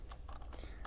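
Fast, light clicks of keys on a computer keyboard, a few quick keystrokes heard close up over a low steady hum, with no talking.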